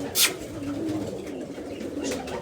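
Pigeons cooing softly in a loft or enclosure, low murmuring calls under a light background hum, with one brief sharp noise near the start.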